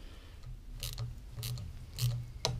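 A pipe clamp used as a piston ring compressor is tightened around a piston from a Willys Jeep engine rebuild, giving a few close, sharp ratcheting clicks and metallic snaps spaced across a low mechanical hum, with no talking.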